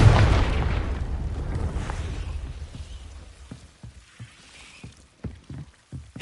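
A Confringo fire spell explosion in Hogwarts Legacy, a loud booming burst up front that fades into crackling debris and scattered small impacts and pops.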